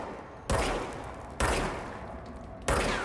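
Three sharp, loud gunshots from a pistol in the video game Control, spaced about a second apart, each a broadband crack with a short decaying tail over low game ambience.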